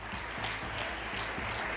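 Applause from a table of attendees at a Spanish award ceremony for the posthumous Gabriel Cisneros prize for constitutional values, a dense, steady patter of many hands under a low hum, with no talking.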